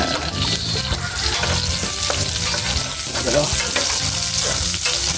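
Onions fry in a hot pan while being stirred, a loud, close, continuous sizzle broken by repeated scraping and clattering strokes of the spoon, with no speech.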